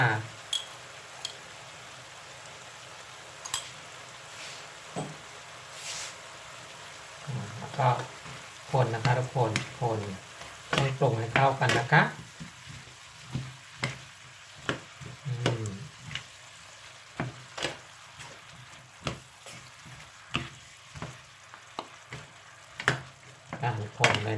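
Mixed mushrooms with ginger and basil stir-frying in a pan, with bursts of sizzling and stirring clatter that swell in the middle, while someone speaks over the cooking.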